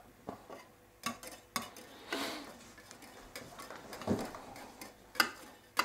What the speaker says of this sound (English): Now you mix this well together.